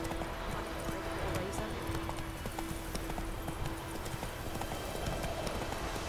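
Horse hooves clop along in The Witcher 3 game, a quiet, steady rhythmic beat of hoofbeats under low background ambience and a faint tonal hum.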